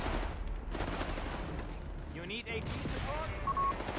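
Rangers fire sustained small-arms bursts in the Company of Heroes 3 war game, a quiet rattle of overlapping shots under continuous talking.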